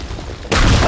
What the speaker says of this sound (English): Fire in the hole! Grenade! Fire in the hole!